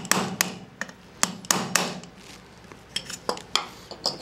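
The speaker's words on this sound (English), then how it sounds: "Use a punch and a small hammer to push out the roll pin." A small hammer strikes a punch to drive out a roll pin from a rifle lower receiver's trigger guard, making sharp metallic taps in uneven clusters, close and crisp with quiet gaps between them and no talk.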